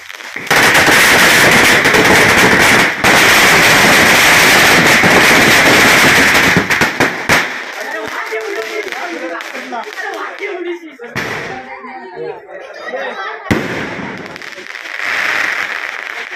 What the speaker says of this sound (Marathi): फटाके लावले आहेत